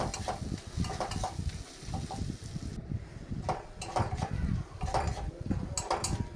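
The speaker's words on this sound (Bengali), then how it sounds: "এভাবেই নেড়ে চেড়ে একটু কষিয়ে নেব মশলাগুলোর সাথে, যাতে মশলাগুলো ভালো করে পেঁয়াজ, টমেটো, কাঁচা লঙ্কার সাথে মিক্স হয়ে যায়" Masala with onion, tomato and green chili is stirred and fried in a pan, giving a soft crackling sizzle with repeated scraping strokes of a spatula at close range.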